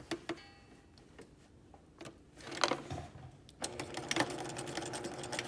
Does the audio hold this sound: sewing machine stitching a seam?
yes